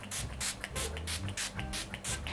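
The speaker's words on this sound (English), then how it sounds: "before I complete my lips, I'm just gonna spray my face" Rapid short hisses of a makeup setting spray bottle sprayed on a face, about eight quick bursts in a steady rhythm, close by.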